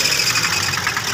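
Diesel engine with a stuck fuel injector nozzle, running with a loud, close, continuous rattling knock over a steady mechanical drone, no voices over it.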